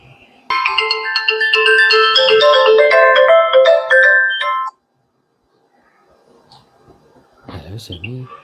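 A mobile phone ringtone plays a loud, bright electronic melody for about four seconds, then cuts off into near silence before a short burst of voice near the end.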